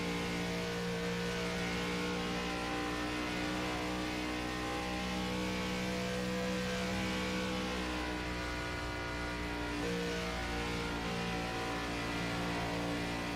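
An iRacing NASCAR sim race car in the VRL Vanquish ARCA Series at Atlanta Motor Speedway (Legacy), heard from on board: a loud, steady engine drone that holds at high revs throughout with only slight swells and no talk.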